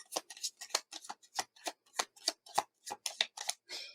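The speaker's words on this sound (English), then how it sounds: "All right, we'll do one more shuffle." Playing cards are shuffled up close in a quick run of crisp riffling snaps, about a dozen short bursts in an uneven rhythm with no talk.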